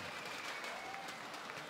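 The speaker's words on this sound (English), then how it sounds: "Yeah, a crowd is loving it" A large esports crowd at a FaZe versus Liquid Counter-Strike match on Inferno, StarSeries i-League third-place decider, cheers and applauds in a continuous distant roar, fairly faint and steady throughout.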